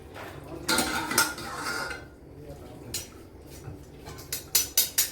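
A metal utensil scrapes and clinks against a pot as boiled spinach is lifted out, giving a few clattering bursts followed by sharper taps near the end, with no talking.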